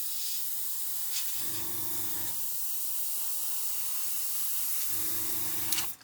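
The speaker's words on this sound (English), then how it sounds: "we're going to spray our stencil black" Black spray paint hisses from a can onto a stencil in a steady, continuous spray, with two brief low tonal stretches appearing partway through.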